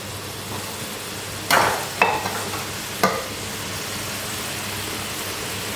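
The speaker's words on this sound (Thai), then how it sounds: "ตรงที่ ช่วงที่เรา ผัดไข่ ใส่ลงไปเลยจ้า" Egg being stir-fried in oil in a pan for spicy fried noodles, a steady low sizzle under a few sharp spatula scrapes and clinks, close up, with no talking.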